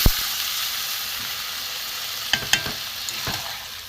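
Water poured into a pan of sizzling potato and pea curry produces a loud, even hiss with scattered pops and crackles close by and no voices.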